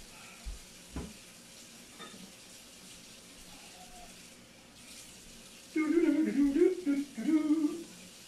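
A splash of water hits a thickened garlic-sugar sauce in a hot pan for pork medallions, giving a loud bubbling sizzle about two-thirds of the way through after quiet kitchen background; close and wordless.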